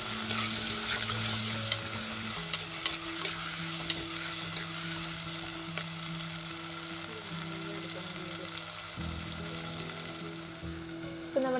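Tomato sizzles with shallots, ginger and garlic in a pan for a Kerala crab roast, a steady close frying hiss with faint stirring, under a low background hum.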